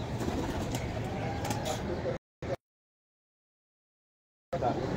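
Pigeons coo on a rooftop during a pigeon-flying tournament, soft repeated calls mixed with nearby voices, broken by a couple of seconds of dead silence before resuming.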